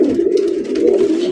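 A red Raj Golla pigeon coos close by in a steady, low, throaty rolling call that runs the whole moment, with no talking over it.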